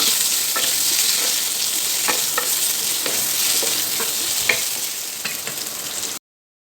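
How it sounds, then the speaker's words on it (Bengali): Potatoes with whole cumin sizzle steadily in hot oil, close and loud, with soft scraping and stirring clicks scattered through the frying before it cuts off abruptly. "আলুগুলোকে বেশ কিছুক্ষণ নাড়াচাড়া করে"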